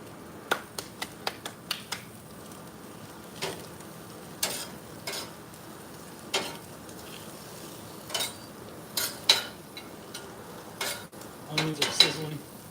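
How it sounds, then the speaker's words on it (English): Onions sizzling on a barbecue alongside steak, a soft continuous sizzle punctuated by frequent sharp clicks and taps of utensils against the grill. "Onions are sizzling."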